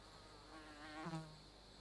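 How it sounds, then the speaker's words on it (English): A faint, steady fly buzz hums in a quiet space, swelling briefly near the middle before settling back to a low drone. "You hear him? The fly buzzing?"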